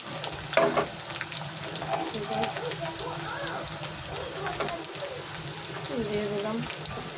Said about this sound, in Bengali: এখানে যে পেঁয়াজ, রসুন আর শুকনো মরিচ দিয়ে বাগার দিব